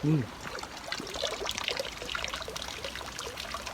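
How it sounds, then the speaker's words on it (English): Rainwater pouring off a garden plot shed roof into a collecting container, a steady mid-level trickling splash that carries on throughout after a brief voice at the start. "So that gets a lot of water there off that roof there."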